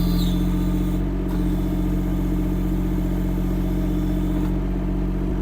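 A diesel engine on a Chinese mini excavator runs at full throttle with a constant, loud, even drone, joined by brief hydraulic whines, and no one speaks over it.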